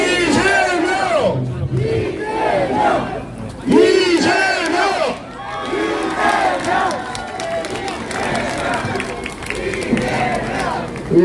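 A large crowd at a Korean election campaign rally cheers and shouts loudly and continuously, a roaring mass of voices filling the whole stretch.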